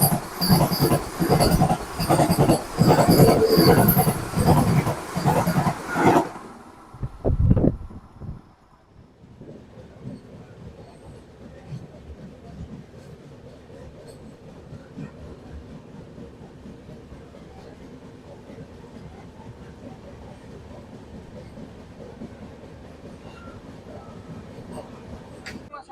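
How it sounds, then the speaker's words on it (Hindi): The Amritsar Vande Bharat Express, bound from Old Delhi to Amritsar, roars loudly past at close range for about six seconds, then cuts off, leaving a steady lower rumble of rolling rail noise. "पीछे से अमृतसर वंदे भारत एक्सप्रेस जो कि पुरानी दिल्ली से चल के अमृतसर को जा रही है"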